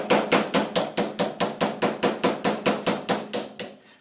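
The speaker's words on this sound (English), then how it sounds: "you don't really need to hammer it out with like a real hammer, but I find this kind of takes care of the issue quicker" Rapid, steady metal-on-metal hammer taps drive a punch against the trigger pin of a SAR CM9 Gen2 pistol, about sixteen sharp close strikes in even rhythm, fading at the end, with no talking.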